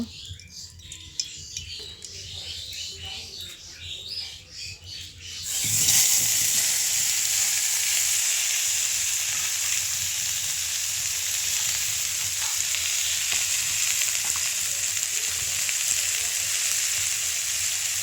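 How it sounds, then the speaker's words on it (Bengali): Potatoes frying in a little oil in a wok, a quiet stretch giving way to a sudden loud, steady sizzle and crackle that carries on close and strong to the end. "আলুগুলো ভেজে নেব"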